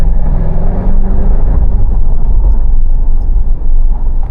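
A Mahindra Thar, just collected from the service centre, drives and climbs gradually on a gentle throttle. Its engine gives a steady, close, low drone that holds evenly throughout, with no talking.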